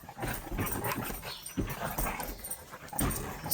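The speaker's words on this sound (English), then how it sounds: "Excuse the dogs. Apparently, because it's early morning, it's playtime." Several dogs playing roughly in the early morning, with repeated growls, yips and barks bursting out close by in an energetic, uneven rhythm and no talking.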